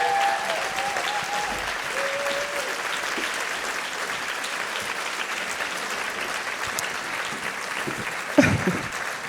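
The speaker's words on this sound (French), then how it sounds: "Un tonnerre d'applaudissements pour Olivier Chabrol" A thunderous, sustained ovation from the audience at the NeuroStories 2026 event in honor of Olivier Chabrol, steady dense clapping that fills the room for about nine seconds, with a brief louder burst near the end.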